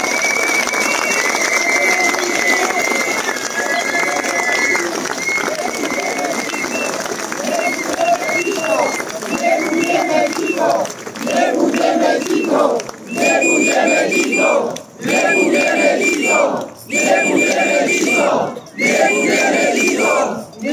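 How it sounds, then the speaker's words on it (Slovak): A large crowd at a political rally in Košice roars with loud, sustained cheering and shouting that rises and falls in waves, with brief dips between bursts and a chant-like quality. "A práve preto jeden veľký potlesk pre vás všetkých."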